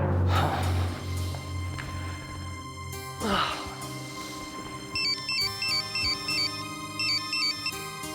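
A phone ringtone chirps in a repeating melodic pattern for an incoming call, fairly loud and close, following a stretch of voices and breathy sounds in a dramatic television scene.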